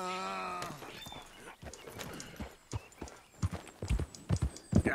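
Horse hooves clip-clop in the Red Dead Redemption 2 video game, starting with a whinny and then sharp, irregular hoofbeats that grow louder, with game speech in the background.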